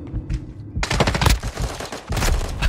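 Bursts of machine-gun fire in the video game Modern Warfare 2, loud and close, with a few sparse shots first and then heavy rapid firing that pauses briefly before resuming.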